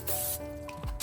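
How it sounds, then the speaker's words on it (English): Cooking spray from an aerosol can hisses over chicken sliders inside a smoker: one long close burst, then a brief second puff after some soft handling noise. "give it a nice little spray with the cooking spray"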